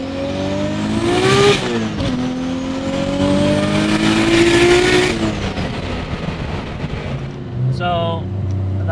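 A 1200 hp BMW E36 M3 sleeper revs hard, its engine note climbing in pitch, dropping back and climbing again to high RPM, loud and close, then easing off with a short blip near the end; a voice talks over it.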